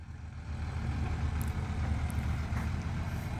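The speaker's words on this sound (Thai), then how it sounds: "เดี๋ยวรถไถลงก่อนครับ" A tractor's engine rumbles steadily as the machine drives down a slope at a pond site, a continuous low drone without speech.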